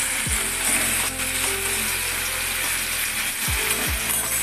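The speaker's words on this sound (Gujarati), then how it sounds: "થોડી હિંગ નાખીશું અને ત્યારબાદ એમાં લસણ પેસ્ટ નાખી" Garlic paste and asafoetida frying in hot oil, a loud, continuous sizzle with a few short clicks and scrapes from the pan, and no voices.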